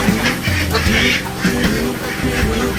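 Egg-laying ducks quack loudly and continuously in their pens on a farm, many birds calling over one another in a dense, close chorus.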